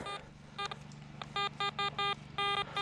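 A metal detector gives a series of short electronic beeps pulsing in an uneven rhythm over a low steady hum, some beeps clustered in quick bursts.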